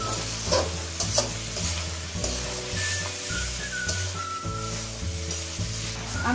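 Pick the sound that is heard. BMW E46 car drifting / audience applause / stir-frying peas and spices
stir-frying peas and spices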